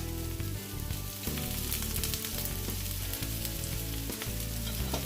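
Garlic cloves frying in olive oil in a pan while a seafood kare-kare is made; a dense, loud, continuous sizzle and crackle fills the whole stretch, close up and with no talking.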